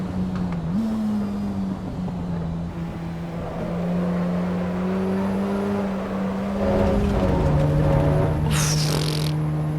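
A race car engine in Assetto Corsa Evo, a steady droning tone that holds and shifts pitch slightly as the car runs, with a brief burst of tyre or wind hiss near the end. The sound is close and fairly loud.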